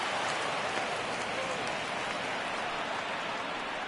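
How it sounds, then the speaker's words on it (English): Steady rain falling in a PS4 baseball video game, a continuous dense hiss of drops that stays loud and even from start to finish. "we've mentioned the conditions aren't ideal with the rain coming down"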